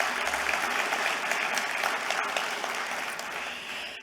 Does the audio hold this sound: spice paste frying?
no